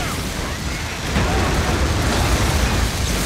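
An explosion rumbles in the video game Freedom Wars Remastered, a dense, loud roar of blast noise that swells and holds, with game voices over it.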